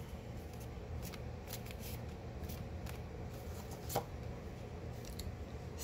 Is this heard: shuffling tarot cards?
yes